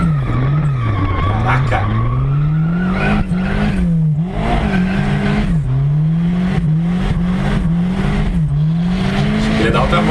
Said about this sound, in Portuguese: Barulhão do turbo.